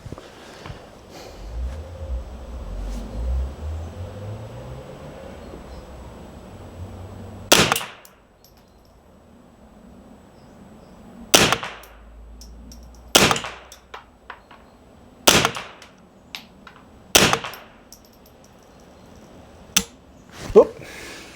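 An X51Bis French .22 carbine fires semi-automatically, six sharp close cracks spaced a couple of seconds apart, with faint handling noises between shots.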